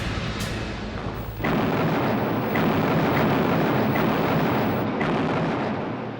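Bombs from carrier-based aircraft exploding on Japanese-held Pacific atolls in World War II, a continuous heavy rumbling roar with several sharp blasts landing roughly a second apart, loud and dense throughout.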